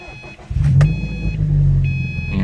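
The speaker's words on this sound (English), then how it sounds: "I'm going to start the car up" A Subaru engine cranks and catches, then settles into a loud, close idle with a brief rise in revs, heard alone without speech.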